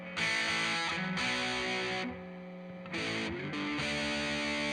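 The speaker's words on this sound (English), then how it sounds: "this guitar is pretty heavily distorted right now, as you can tell" A Gibson SG Special electric guitar with single coil pickups, played through heavy distortion: loud, buzzing sustained chords and bends ring out in a few held phrases, with brief gaps and pitch shifts between them.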